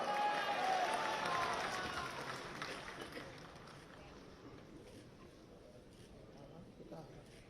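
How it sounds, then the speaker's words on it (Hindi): Applause from an audience at a book launch ceremony at Delhi University, loud at first and then fading over several seconds into a softer wash of clapping, with a voice speaking over the start. "सुधांशु त्रिवेदी जी की गरिमामय उपस्थिति के लिए जोरदार तालियां"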